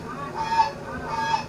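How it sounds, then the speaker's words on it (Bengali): A domestic duck calls out twice in quick succession, searching for the man who keeps it; the nasal calls are fairly faint and sit over a steady background hiss. "বন্ধু রব্বানিকে খুঁজে না পেয়ে এভাবেই ডাকতে থাকে এই হাঁস"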